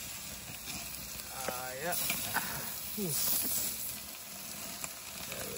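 Meat sizzles on a cabin barbecue grill in autumn, a steady hiss under a man's brief speech and other voices.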